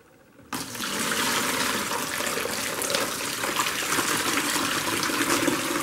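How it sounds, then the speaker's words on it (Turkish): Water pours from a container onto peat as a potting mix is prepared, starting suddenly after a quiet moment and continuing as a steady, close gushing splash. "Suyumuzu torfların üzerine döküyoruz."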